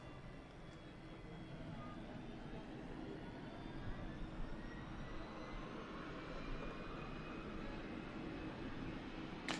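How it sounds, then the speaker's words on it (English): A TUI Dreamliner airliner departing for Cancun from Manchester Airport gives a faint, steady distant engine roar that slowly builds over the whole stretch. "TUI Dreamliner out to Cancun."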